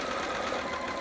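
A sewing machine zigzag stitching knit fabric for a child's romper runs in a fast, steady, even whir for about a second, close and moderately loud, with no voices.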